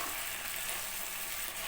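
Ingredients fry in hot oil with a dense, even sizzle that fills the moment, close and steady, with no voices over it.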